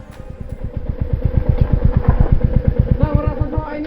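A motorcycle engine runs steadily during a bike ride of about 11 kilometres to the entrance of Nohkalikai Falls near Cherrapunji, with a fast, even pulsing note that stays loud and close throughout, with no talking.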